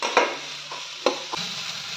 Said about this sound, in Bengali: পেঁয়াজটা কিন্তু আমি বেশি ভাজবো না, ওই জন্য লাস্টে দিলাম, হালকা একটু ভেজে নেবো